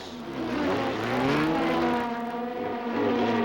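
Several 1975 Formula Atlantic race cars sliding on a slick, rain-wet circuit, their engines whining and droning in overlapping pitches at moderate distance, rising and falling steadily throughout.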